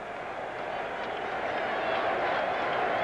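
Home crowd at a Mets baseball game against the Reds, a steady roar of cheering and applause that swells slightly, with a commentator talking over it.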